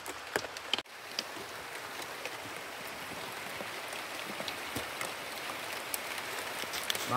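Rain falls steadily and softly outdoors at a riverside village cookout, a continuous faint patter with scattered louder drops and no voices.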